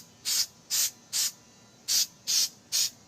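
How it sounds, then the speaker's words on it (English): Six short bursts of spray paint hiss out of a can onto a Halloween gravestone in an uneven rhythm, each lasting a fraction of a second, close and fairly crisp. "we're going to see what it looks like if I spray more paint on it"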